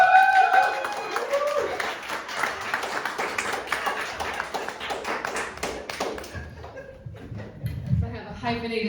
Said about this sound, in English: Let's give a round of applause for Sarah,